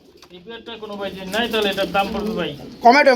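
Pigeons cooing close by at a pigeon sale, soft throaty calls mixed with a person talking over them.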